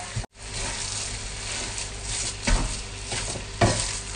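A peanut filling for fried Thai pastries being stir-fried in a pan, giving steady close sizzling and scraping from the stirring, with occasional louder scrapes of the utensil against the pan and no one talking.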